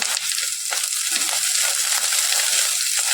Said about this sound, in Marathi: अशा पद्धतीने भाज्या आपण छान त्याला फ्राय करून घ्यायचा